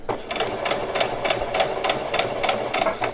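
A sewing machine stitches down a diagonal seam on an old dress being upcycled, its needle hammering in a steady, close, fairly loud rhythm of repeated bursts with no talk over it.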